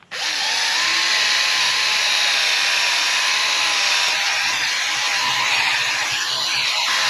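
Power tool fitted with a buffing pad running on high to clear glue residue from a car, a steady loud whine that spins up quickly and then holds constant, close to the microphone with no talking.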